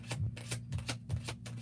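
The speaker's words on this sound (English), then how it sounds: "I'm gonna sit here and shuffle about 3 times." A deck of tarot cards shuffled in a few quick riffling bursts, close and steady, with no talk over it.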